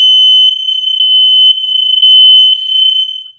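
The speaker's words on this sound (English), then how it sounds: "if the smoke detector goes off, all of them goes off" A home smoke detector sounding loud and close, a piercing high-pitched beep pulsing in a steady rhythm of about two beats per second, with no other sound.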